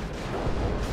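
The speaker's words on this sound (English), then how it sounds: "the grenades from these Stormtroopers totally destroyed it" Stormtrooper grenades bursting and destroying a garrisoned building in Dawn of War II: Retribution, a dense rumbling blast of booms and crumbling debris, loud and close, with no voices.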